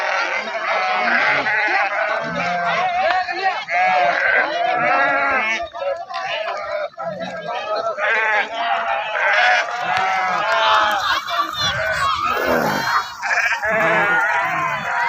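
A large flock of sheep bleats constantly and overlapping during bathing at the Bhima river in Gursale, many loud, close, wavering calls layered together with no pauses.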